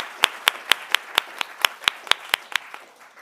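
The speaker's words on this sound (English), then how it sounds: "So another round of applause for her." Sparse, evenly spaced hand claps ring out at a student union excellence awards ceremony, about a dozen crisp beats in a steady rhythm from a small number of clappers, fairly close.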